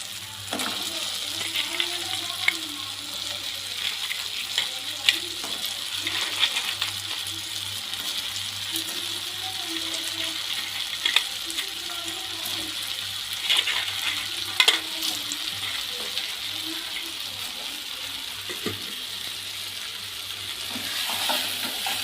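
Cleaned small crabs fry in a pan for a Chettinad crab gravy under a steady sizzle. A spoon stirs them, and its scrapes and occasional sharp metallic clinks recur through the clip.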